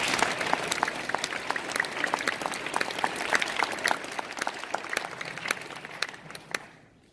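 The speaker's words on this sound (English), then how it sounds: "Please join me in thanking them with a round of applause." A round of applause rises from the audience at a middle school National Junior Honor Society induction ceremony, dense overlapping clapping for about six seconds before it tapers and stops.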